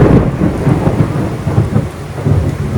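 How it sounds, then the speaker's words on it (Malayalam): Heavy rain roars steadily with deep thunder rumbling throughout, loud and close, with no voices. "നല്ല ഇടിയും പൊട്ടിയും മിന്നലൊക്കെ പൊട്ടുന്നുണ്ട്"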